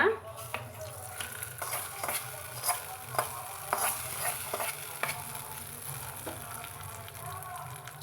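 Curry leaves crackle and sizzle in hot oil, then the tempering is stirred into a peanut chutney, giving a close, continuous frying hiss with scattered clinks and scraping of a spoon against the pan.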